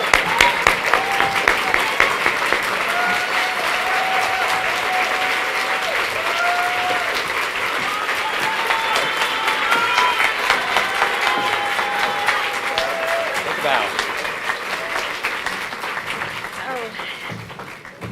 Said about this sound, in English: Can we stand up and give her a round of applause?